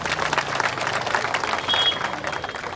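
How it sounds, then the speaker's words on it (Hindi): Applause from the audience at a union conference public meeting in Rewa, honouring a member's mother and aunt. Broad, continuous clapping carries on throughout, moderately loud and slightly distant. "आप उनके सम्मान में जोरदार ताली बजाकर उनका सम्मान करें"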